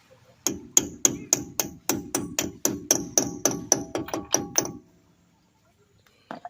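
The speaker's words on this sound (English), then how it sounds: "You just slap it on, use your hammer and knock it on." Rapid metallic hammer strikes knock a grease cap onto a 2002 Ford F-150 wheel hub, a steady series of about fifteen blows, loud and close, then stop, leaving near silence with a faint tap.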